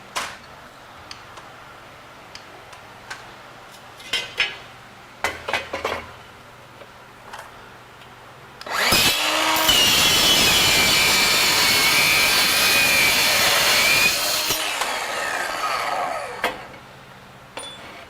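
Steel is cut with a Diablo Steel Demon blade on a saw: a few short clanks of handling come first, then a loud, harsh metal cut holds for about six seconds before trailing off.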